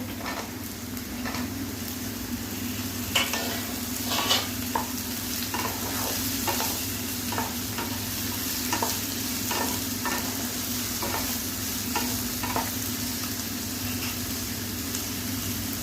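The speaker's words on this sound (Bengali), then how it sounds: "রসুন পেঁয়াজ তো খুব ভালোভাবে ভাজা হয়ে গেছে," Garlic, onion and potatoes fry in a pan with a continuous loud sizzle, punctuated by repeated scraping strokes of a spatula stirring at close range.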